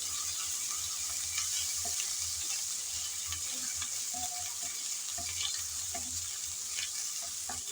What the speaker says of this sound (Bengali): আদা রসুন পেঁয়াজের সাথে ভেজে নিলাম যাতে কাঁচা গন্ধটা চলে যায়।